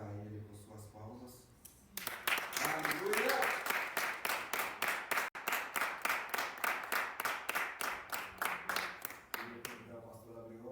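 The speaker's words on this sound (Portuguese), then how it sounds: "glorificar Ele com suas palmas." A church congregation claps hands in praise during a worship service, a steady rhythmic beat of many hands sustained for several seconds, with voices speaking and calling out over it at the start and end.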